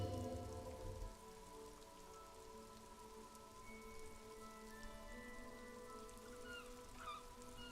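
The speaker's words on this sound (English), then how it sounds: "Precinct 41 hunches in the rain." Steady rain falls over the city district of Jamrock in the video game Disco Elysium, a dense hiss of drops on surfaces with a low rumble at the start, continuous and ambient with no voices.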